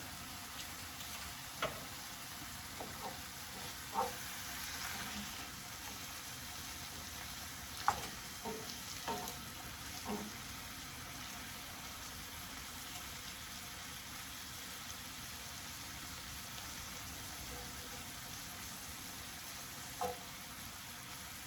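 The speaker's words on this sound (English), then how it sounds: "now it's really good time to add the butter, like a 2 tablespoon butter" Two tablespoons of butter melt and sizzle in a pan for Parmesan mushroom pasta, a steady soft frying hiss with a few faint clinks and stirring taps scattered throughout, no talking.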